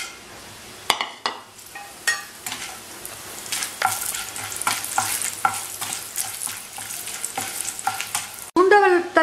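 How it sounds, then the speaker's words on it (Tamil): Dried turkey berries (sundakkai) sizzle and crackle in hot sesame oil while being stirred, steady close frying with frequent scraping strokes and a sharper clatter near the end, no voices. "எண்ணெய் காய்ந்தவுடன் எடுத்து வச்சிருக்க சுண்டவத்தில் வறுத்து எடுத்துக்கோங்க."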